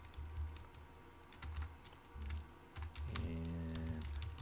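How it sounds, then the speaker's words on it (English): Someone types a search into a video editor's effects panel on a computer keyboard, with quick bursts of key clicks, some pauses between them, and a faint hum underneath. "I'm just typing it in the search in the effects panel"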